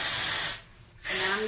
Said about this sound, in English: I use some DryBar Triple Sec, and I just spray it around sort of the bottom inch or two of this hair